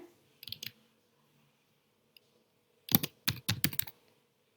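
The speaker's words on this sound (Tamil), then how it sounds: "அடுத்த லைன்ல நான் இன்னொரு சென்டென்ஸ் வந்து டைப் பண்றேன்." Keys clatter on a computer keyboard as text is typed, a short cluster of clicks followed by a pause and then a faster, louder burst of keystrokes, close and alone without talk.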